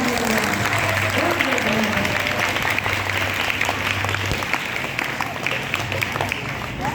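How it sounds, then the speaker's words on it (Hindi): Audience applause after a Vedic bhajan at an Arya Samaj gathering in Hisar: a dense, continuous patter of clapping from a crowd, fairly loud and steady, with a sustained low tone and some voices underneath. "और तालियां जोर के साथ"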